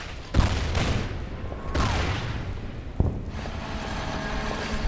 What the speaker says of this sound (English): effective artillery fire there.